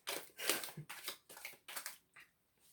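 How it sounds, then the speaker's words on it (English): Round tarot cards being shuffled by hand, five or six short papery crunches and rustles in quick bursts, close and quiet with no talk. "round cards are a little bit tricky to shuffle"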